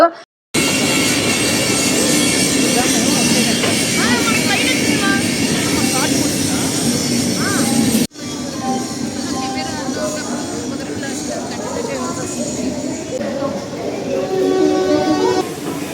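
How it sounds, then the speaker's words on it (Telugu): A train arriving at a station platform rumbles and roars close by, then the din drops to a lower rolling clatter with squealing wheels as it slows. "ట్రైన్ వచ్చేసిందండి ఆల్రెడీ ప్లాట్ఫామ్ పైకి"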